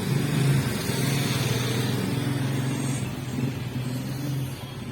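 A Barako 175 motorcycle engine idles steadily up close, a continuous low rumble with a faint buzzing overtone and no voices.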